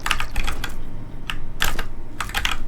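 Rapid clusters of key presses on a computer keyboard during a Neon White speedrun, irregular bursts of clicky taps with brief pauses, close and fairly loud.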